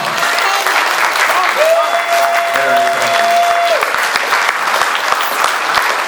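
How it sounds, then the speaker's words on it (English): Audience applause for John fills the whole stretch, a steady dense wash of clapping from a crowd, with a sustained tone briefly rising above it midway. "Big round of applause for John"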